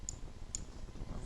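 Two sharp, close mouse clicks about half a second apart during work in 3ds Max, with a faint third tick at the end over a steady low background hum.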